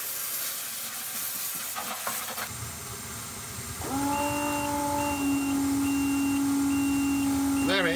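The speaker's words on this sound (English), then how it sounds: "that's the alarm and the bilge pump on the automatic." An automatic float-switch bilge pump on a boat kicks in with a loud electric hum and a repeating beeping alarm, starting partway through after a stretch of hissing water noise and continuing steadily to the end.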